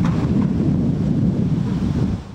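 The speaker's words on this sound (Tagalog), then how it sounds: "makikitang malalaki pa rin ang alon at damang malakas na hangin" Strong typhoon wind roars and buffets the microphone while big waves surge along the Manila shore, a loud, continuous broadband rush with no voices.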